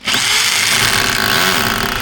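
Power drill chiselling and chipping stone or masonry bit by bit, a loud, continuous grinding drone with steady broadband buzz running throughout, close by and without talk.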